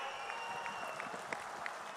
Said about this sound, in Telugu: గట్టిగా చప్పట్లు కొట్టి హర్షాన్ని ఆమోదాన్ని తెలియజేయాలి